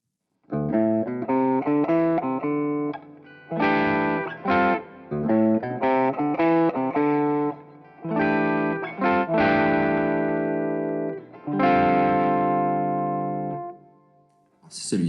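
Five-note voicing built from three stacked fourths topped by a major third, struck repeatedly on a bright distorted electric instrument with effects, in short separate chords and longer sustained ones.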